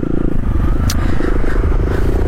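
A motorcycle rides off along the road toward the port during a long holiday homecoming trip from Bekasi to Lampung, its engine giving a loud, steady, close low drone with rough pulsing and wind rush.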